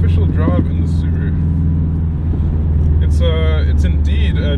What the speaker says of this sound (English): first official drive in the Subaru.